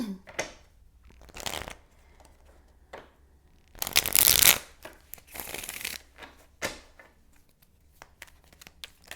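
Tarot cards of a Marseille deck shuffled by hand in a few separate bursts, one loud riffle in the middle among softer slides and taps, close up with quiet between.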